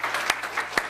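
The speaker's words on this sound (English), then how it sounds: "a big round of applause for Joe Morelli for emceeing today's event" A crowd applauds at a swearing-in ceremony and organizational meeting. The clapping is dense, steady and continuous, with a few sharper claps standing out near the listener.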